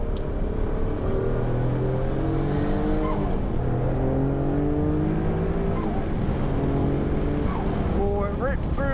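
A Noble M12 GTO-3R accelerates hard on a track, its engine rising in pitch through several quick upshifts, loud and close throughout.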